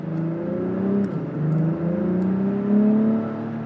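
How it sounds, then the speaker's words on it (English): A 2023 Acura TLX Type S engine revs up through several smooth gear changes, the pitch climbing and dropping in smooth steps, loud and close. "Meaty sounding engine"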